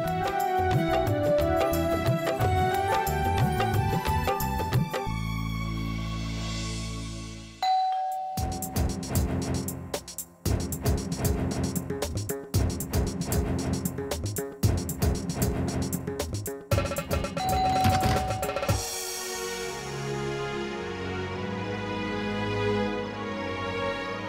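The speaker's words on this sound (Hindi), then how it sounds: "घंटी की आवाज सुनी इसलिए आ गई।" A doorbell chimes amid music, its ding-dong tones ringing clearly, then the music carries on without voices.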